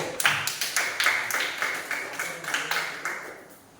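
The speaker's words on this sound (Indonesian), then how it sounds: "tepuk tangan buat kelompok 1" A classroom group claps together for group 1 during a teaching session: a quick run of sharp, fairly even handclaps, moderately close, tapering slightly toward the end.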